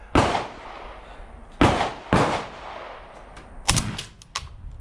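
A 12-gauge Black Aces Tactical Pro Series bullpup shotgun fitted with a V6 Industries muzzle brake fires at an outdoor range: several loud, sharp blasts spaced irregularly, each with a brief echoing tail, and no talking.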